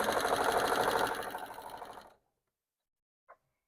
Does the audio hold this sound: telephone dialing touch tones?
no